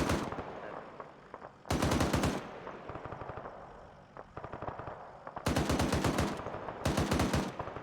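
Automatic weapon fire in the military shooter UNITAF, set in Syria: sustained loud bursts of rapid machine-gun shots alternating with lighter, more distant crackling gunfire.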